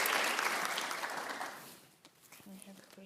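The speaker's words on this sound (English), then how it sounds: "Let's give them a big round of applause." A seated audience at a women in science symposium claps warmly, a dense burst of applause that fades after about two seconds, leaving quiet room noise and a faint hum.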